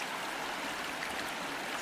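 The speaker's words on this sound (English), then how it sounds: "Stopping to get some water in the stream." A mountain stream in Jasper's backcountry near Brazeau Lake flows in a steady, close rushing burble, fairly soft and continuous, with no voices over it.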